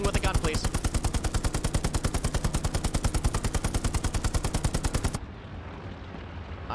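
Rapid tank machine gun fire in the World War II shooter Hell Let Loose, set in snowy Foy: a loud, steady stream of evenly spaced shots for about five seconds, then cutting off abruptly into quieter rumble.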